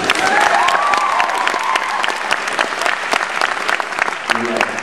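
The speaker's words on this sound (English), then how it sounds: "Applause break on a joke I've never told before." Loud, dense applause from a high school talent show audience fills the space continuously for several seconds at a comedy routine, with a little cheering mixed in.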